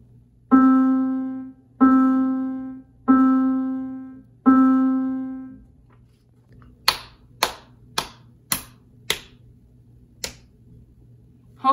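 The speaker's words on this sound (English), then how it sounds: "if you wanna hear that on the piano, it would sound like this." Four evenly spaced piano notes on one pitch, each ringing and fading, followed by a quicker run of sharp, dry clicks. No voices.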